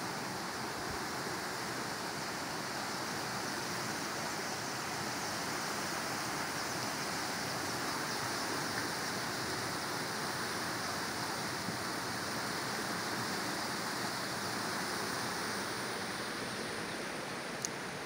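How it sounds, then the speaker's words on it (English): The River Yala in Siaya County, Kenya, flowing toward Lake Victoria, gives a steady, broad rushing wash of water that holds even and unbroken throughout, with no voices. "River Yala has a catchment from the Nandi Hills and it flows up to Lake Victoria."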